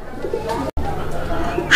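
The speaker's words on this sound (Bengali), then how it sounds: "কালারিং রাজগোল্লা কবুতর এমনিতেও সবগুলো কবুতরই ডাকে" Local Raj Golla pigeons cooing in a soft, low, repeated call over steady background noise, with a brief dropout midway through.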